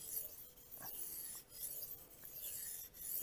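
Carbon steel bushcraft knife sharpened on a Suehiro whetstone, soft rhythmic scraping strokes repeating about every half second to second, faint and close with no talk.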